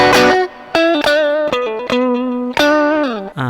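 An electric guitar runs through an MXR 6 Band Graphic EQ on a 24-volt supply, overdriving the front of the amp, playing loud, sustained distorted notes and slides in a rising and falling melodic phrase, with no talk.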